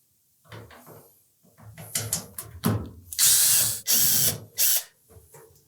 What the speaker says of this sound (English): as you remove the last screws, be sure to support that bulkhead